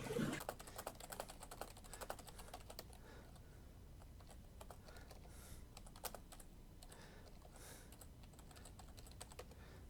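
Rapid computer keyboard typing runs steadily throughout, close and moderately loud, with irregular clusters of key clicks and no voices.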